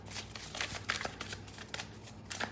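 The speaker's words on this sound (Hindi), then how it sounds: "थोड़े और कार्ड्स लूँगी।" Tarot cards shuffled by hand in a steady run of soft riffling and papery slaps, close and fairly quiet, with a low steady hum underneath and no talking.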